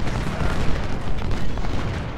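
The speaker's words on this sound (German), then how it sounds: "die Kanonen bitte auf den nächsten schießen" Dense, rumbling battle noise in the video game Ultimate General: Civil War, Battle of Chickamauga, with repeated booming cannon shots blending into a continuous loud roar, no clear gaps between blasts.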